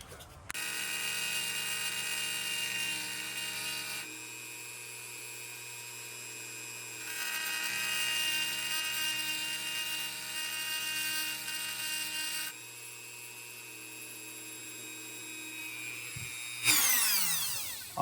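A grinder steadily cuts down a folding knife to free its spring, a close, loud, even whine that runs in long passes with brief drops in pitch between them, ending in a sharp winding-down sweep.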